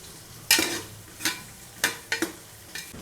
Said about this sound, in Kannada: ಈರುಳ್ಳಿನ ಒಂದು 5 ನಿಮಿಷ ಫ್ರೈ ಮಾಡ್ಕೊಂಡಾಗಿದೆ